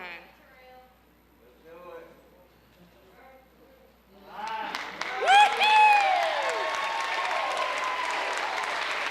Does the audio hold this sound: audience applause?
yes